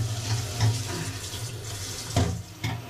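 Tap water pours steadily into a child's bathtub at bath time, a soft continuous splashing stream with a couple of small surges, moderately quiet and without talk.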